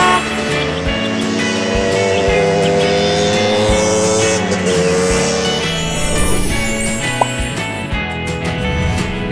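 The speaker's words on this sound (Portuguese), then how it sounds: "Vespa." A Vespa scooter engine drones loudly and continuously, its tone shifting in pitch as it revs, with no voices present.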